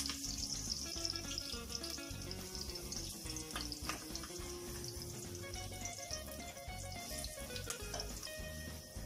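Ingredients for a cabbage egg curry sizzling in hot oil in a pan, a steady dense crackle and hiss running throughout with faint clatter, and no talking.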